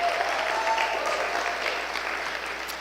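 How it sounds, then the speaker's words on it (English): Audience applause at an awards celebration fills the room, a dense, steady wash of clapping that eases slightly toward the end, with no one speaking over it. "Yes, she deserves applause for that."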